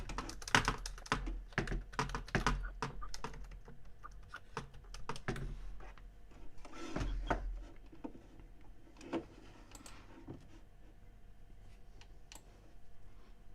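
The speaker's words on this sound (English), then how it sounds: "My keyboard is going crazy, man." Rapid clattering keystrokes on a computer keyboard, close and fairly faint, in irregular bursts that thin out toward the end with no talk.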